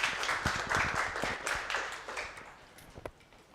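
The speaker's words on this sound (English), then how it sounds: "Please give a welcome round of applause for Vinod" Audience applause welcoming a speaker onto the stage at a .NET Core developer meetup, a burst of close, irregular clapping that thins out over a few seconds.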